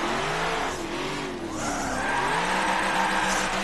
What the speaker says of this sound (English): I can sometimes hold a drift.